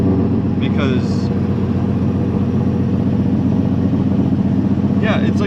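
A Subaru WRX engine idles roughly with a low, uneven throbbing drone, misfiring as if running on one cylinder; loud and close, with brief voices in the background.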